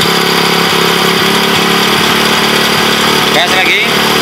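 A Honda Win motorcycle engine runs and revs steadily, loud and close, during a regulator rectifier test, with someone talking over the constant drone.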